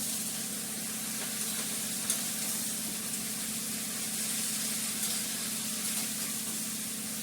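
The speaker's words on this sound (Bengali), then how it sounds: "আমি এটাকে ভালো করে এখন কষাবো। এর মধ্যে দেবো আদা বাটা" Ginger paste being stir-fried in a dal tempering, giving a steady, close sizzle and crackle of hot oil throughout, with faint stirring ticks and no talk.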